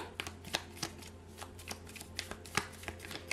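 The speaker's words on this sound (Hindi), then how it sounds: "मैं एक तो और कार्ड लूंगी आपके लिए" Tarot cards shuffled and drawn during a reading, a run of crisp close riffling snaps and flicks in an irregular rhythm, with no talking.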